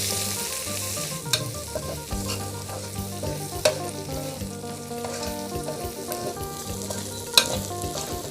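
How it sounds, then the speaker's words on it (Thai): Pork belly stir-fried with dried chilies, kaffir lime leaves and lemongrass sizzles steadily in a hot pan, with close, loud frying hiss and a few sharp clanks of a spatula scraping and tossing the meat. "แล้วก็ใส่พริกแห้งลงไปนะคะ ใบมะกรูดค่ะ คั่วไปด้วยกันเลยนะคะ"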